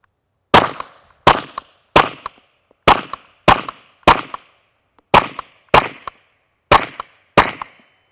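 A firearm fitted with a Dead Air Ghost suppressor fires about a dozen sharp, muffled shots at a steady, unhurried pace, each crack loud and close with a brief decay, and no talking between them.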